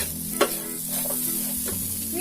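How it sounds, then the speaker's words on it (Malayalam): A spoon stirs spice masala through raw cherries in a pan for a spicy Kerala cherry pickle, giving a soft, brief scraping and sizzling with one sharper clack near the start, no voices. "ഒന്ന് 2 മിനിറ്റ് നന്നായിട്ട് ഇളക്കി ഈ മസാലകളെല്ലാം ചെറിക്കകത്ത് പിടിപ്പിച്ചെടുക്കണം."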